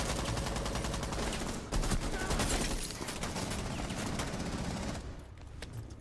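Dense, continuous gunfire in the tactical shooter Rainbow Six Siege, rapid loud shots overlapping in a steady barrage that thins slightly near the end.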